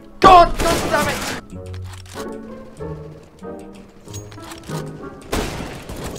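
A sniper rifle shot fired without a scope in the CS:GO video game cracks loudly near the start, with a second heavy blast near the end and excited voices talking in between.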